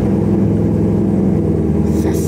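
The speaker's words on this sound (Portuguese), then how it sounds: "vamos dar uma ligada no meu caranga, tá ligado? Pra nós ouvir o ronquinho dele." A car engine idles and revs steadily at close range, a continuous low rumble with dense harmonics, slight rises in pitch and some hiss toward the end; no talking.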